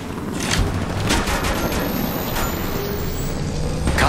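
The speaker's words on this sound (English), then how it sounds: "The enemies are shooting at me." Gunfire in the mobile battle royale Apex Legends Mobile, a steady roar of overlapping shots and rapid bursts that runs continuously and loud through the whole stretch, with no talk over it.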